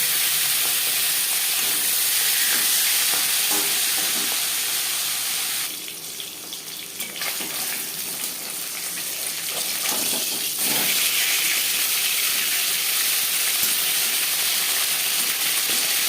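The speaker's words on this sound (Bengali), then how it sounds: "4 চামচ রিফাইন্ড অয়েল গরম করে নিয়েছি। দিয়ে দিলাম মাছের মাথা ও মাছ।" A fish head and rohu pieces fry in hot refined oil, giving a loud, steady broadband sizzle that dips briefly partway through and then carries on alone.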